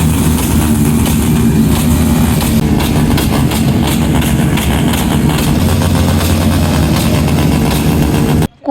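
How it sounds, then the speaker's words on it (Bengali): Motorcycles ridden at speed along a highway on Republic Day, a continuous loud engine drone with passing surges and rumble throughout, with no speech, cut off abruptly at the end. "সবাইকে দেখলাম পতাকা হাতে নিয়ে হাইওয়ে দিয়ে খুব স্পিডে বাইক চালিয়ে যাচ্ছিল"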